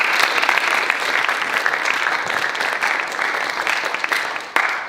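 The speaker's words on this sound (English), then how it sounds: "another round of applause for all the speakers tonight" An evening talks audience applauds the speakers, a sustained, even wash of many hands clapping that carries on steadily and fades slightly near the end, with no voices over it.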